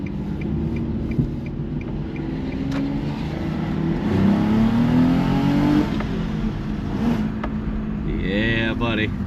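A 2025 Nissan Altima accelerates in a racing setting, engine note rising and falling through the revs up close, with voices talking over the run.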